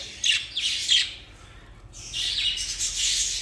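Young male budgerigars squawk and chirp in bursts, shrill chatter rising and falling close by, with no talking.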